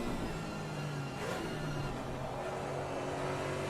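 Porsche Cayman GT4 race car in Assetto Corsa Competizione, a steady engine drone with a low tonal hum throughout, fairly constant and moderately loud with no clear revving peaks.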